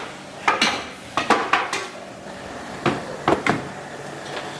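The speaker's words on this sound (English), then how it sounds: "So I've moved it onto another burner." A metal pot of ossobuco alla Milanese is shifted across a stovetop onto another burner, with a series of sharp clanks and scrapes of metal on metal in small clusters, near and fairly loud, without talk.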